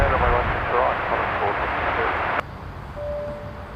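An airliner landing on runway 16 right at Sydney Airport, a broad loud engine roar that drops abruptly partway through and carries on quieter, with a voice talking over it.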